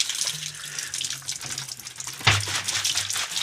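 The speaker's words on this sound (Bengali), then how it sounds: "এই যে নলের মধ্যে জল পড়ছে" Water pours steadily from a tap into a bottle, a continuous close splashing flow whose tone shifts slightly as the bottle fills.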